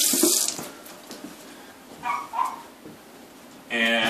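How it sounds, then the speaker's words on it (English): Hands washed under a running kitchen tap while cooking venison manicotti, a burst of splashing water at the start and again at the end, with a quiet gap and a faint dog bark between. "Wash our hands."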